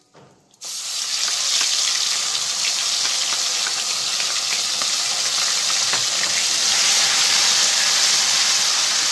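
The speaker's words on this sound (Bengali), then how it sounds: "ফোড়নটা একটু নেড়ে চেড়ে আমি আদা রসুন আর লঙ্কা বাটা দিয়ে দিচ্ছি 2 চামচ" Ginger, garlic and green chili paste drops into hot oil with whole spices and bursts into a loud, steady sizzle that keeps hissing evenly for about eight seconds, close and with no talk.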